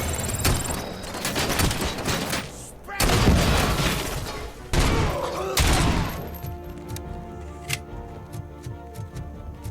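Gunfire in Robocop Rogue City: loud, close bursts of shots with crashing impacts and debris, then quieter mechanical ticks as the action fades, with a voice talking over it.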